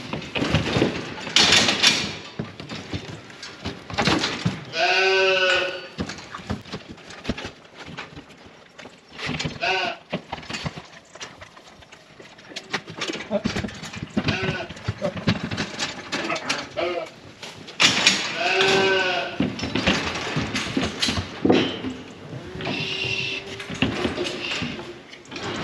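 Flock of sheep on a farm bleating in several loud close calls with pauses between, mixed with hoof shuffling and pen clatter, under someone talking.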